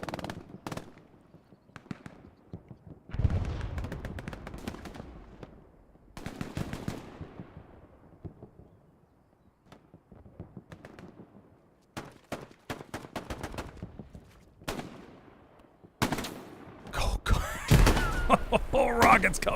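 Gunfire and explosive blasts in a multiplayer World War II battle game, with sharp bursts scattered through the clip and a dense, loud flurry of shots near the end, mixed with stretches of talk.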